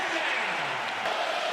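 A college football stadium crowd roars in a steady, dense wash of cheering and noise that holds without letup, loud and close, as if from within the stands on a third down.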